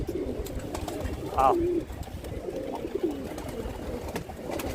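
A pigeon coos softly a couple of times against a noisy outdoor background, with a brief voice nearby, as pigeons sit inside a net.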